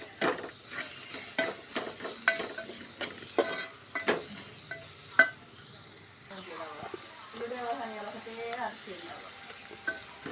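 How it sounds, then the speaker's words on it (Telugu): Onion, turmeric and ginger sauté in a pan for a dried prawn and onion curry, with sharp stirring clicks and scrapes over a soft sizzle, and a voice talking quietly at times. "అల్లం వేసుకొని మంచిగా మగ్గనివ్వాలి"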